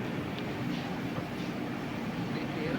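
Train pulling into Ernakulam Junction railway station, a steady broadband rumble and rattle of railcars filling the whole stretch, continuous and fairly loud with no clear pauses.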